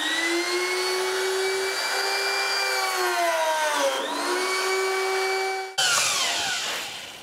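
Castle 110 pocket cutter machine cutting finger-jointed pine: a loud, steady motor whine that shifts pitch as the cut proceeds, then a sharp change to a brief burst of cutting noise before winding down.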